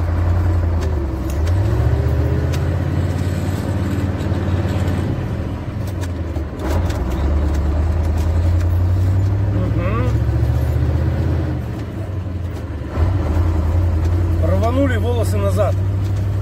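A KamAZ truck engine revs up and pulls away, a loud, steady low drone that dips briefly and then surges again, heard from inside the cab with people talking over it.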